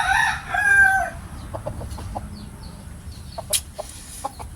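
A trayo gamecock rooster crows once loudly and close by, followed by a few softer clucks and faint bird calls in the background.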